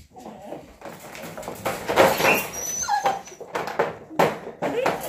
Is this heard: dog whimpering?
yes